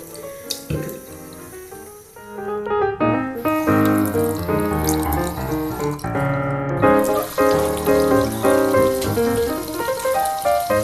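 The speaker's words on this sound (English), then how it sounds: "so I'm going to just wash my face and put this on" A bathroom sink tap runs steadily for a face wash, and the water splashes loudly and continuously at close range with shifting tones as hands move through the stream. No one speaks.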